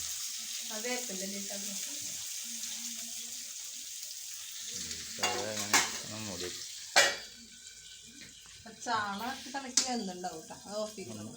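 Sardines frying in a pan for a homestyle Kerala fish curry, giving a steady low sizzle through most of the stretch, with a few sharper crackles and spatters near the middle and end while a person talks over it.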